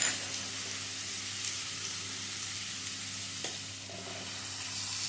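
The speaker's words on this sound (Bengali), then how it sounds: "পেঁয়াজটা দিয়ে পেঁয়াজটা ভেজে নেব পেঁয়াজটা লাল লাল করে ভেজে নেওয়া" Onion frying in a pan after a spice tempering of chillies gives a soft, even sizzle that holds steady throughout, with a faint clink or two near the middle and no speech.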